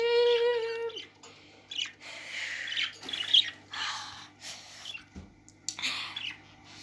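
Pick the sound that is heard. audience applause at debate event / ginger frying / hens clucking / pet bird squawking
pet bird squawking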